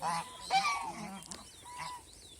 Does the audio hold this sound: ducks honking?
yes